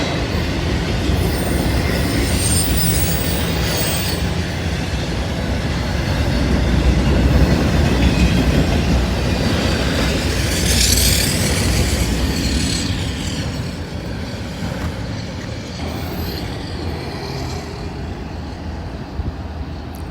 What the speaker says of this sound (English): First real train of the day here.